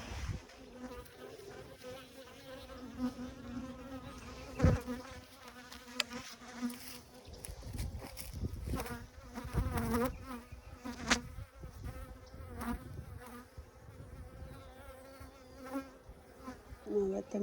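Agitated honey bees swarm around a newly installed flow hive super, a dense, continuous buzzing close by that rises and falls in loudness throughout.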